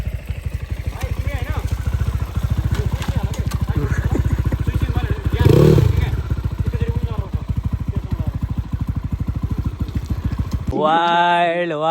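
Motorcycle riding over a rough, wet road in the rain, a close steady engine throb with a pulsing rhythm that surges midway, then cuts out to a voice speaking at the end.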